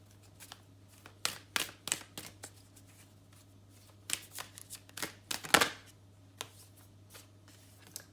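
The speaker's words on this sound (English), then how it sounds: "I'm going to pull some oracle cards." Oracle cards being shuffled by hand in a tarot reading, giving soft, irregular bursts of riffling and flicking in close clusters over a low steady hum, with quiet gaps between runs and no talk.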